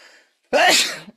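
A single sudden human sneeze, loud and close, following a brief faint voice and a moment of silence.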